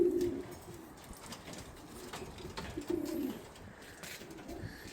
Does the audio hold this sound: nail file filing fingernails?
no